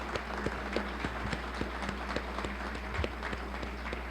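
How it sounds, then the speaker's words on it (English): An audience applauds at a school dedication ceremony, with steady scattered clapping over a low constant hum; the clapping is moderately distant and fairly quiet, with a murmur of voices underneath. "I'd like to ask everyone to join me in applauding all the"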